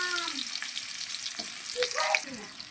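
Onion dropped into hot fish-flavoured oil crackles and sizzles, a bright hiss with scattered pops and light stirring, with brief voice-like tones in the background.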